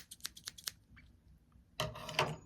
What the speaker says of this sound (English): I'm going to use the scissors because this is the end of what we're going to do.